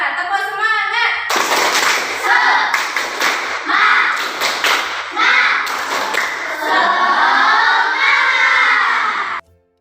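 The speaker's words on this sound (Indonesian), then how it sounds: "Coba tepuk semangat." Schoolchildren in a classroom perform a rhythmic spirit clap, bursts of patterned claps mixed with loud chanting voices in unison, ending abruptly.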